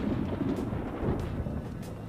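Rumbling thunder before rain in the video game Persona 5 Royal, a low, continuous distant roll that swells slightly, with no talking.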